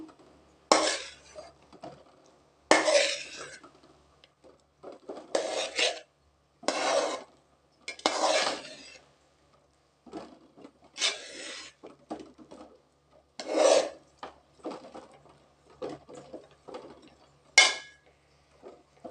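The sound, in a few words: stirring mochai biriyani rice in a pot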